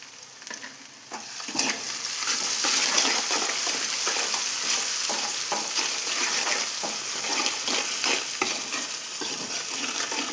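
Ground masala with turmeric and salt fries in a pan for an egg drop gravy, giving a loud, continuous sizzle. Repeated scraping stir strokes run through it, and there is no talking.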